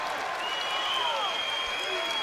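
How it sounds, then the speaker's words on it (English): A wrestling crowd in an arena applauds steadily as the first period of a college dual meet between Purdue and Rutgers ends. The applause is dense and sustained, with some cheering mixed in. "The crowd appreciates the effort as the first period comes to an end."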